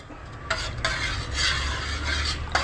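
Tamarind water being stirred and mixed for Konkani kolombo, a continuous scraping swish of a spoon in a pot with a few sharper clinks against the metal.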